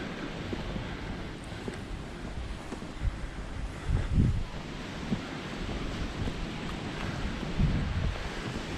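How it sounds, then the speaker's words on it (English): Wind rushing through trees in Palmanova, Mallorca, a steady broadband roar with low gusty buffeting against the microphone, swelling in a few stronger gusts, with no talking. "You can still hear the trees being blown around."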